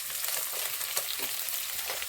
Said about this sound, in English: So it's like I'm frying the omena.